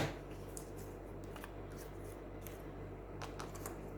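Scissors snip the end off card paper while a waterfall card is made for a junk journal insert, a few quiet, close crisp cuts with light paper rustling in a hushed room.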